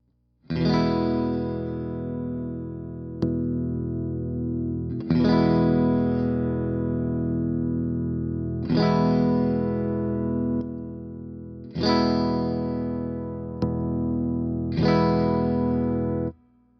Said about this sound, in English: I'll just play like an open E and switch it on and off